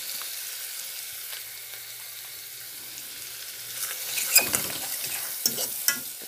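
Pasta tinted with colorau sizzles softly in a frying pan, with the first few seconds fairly quiet before stirring scrapes and clinks pick up near the end; no talk.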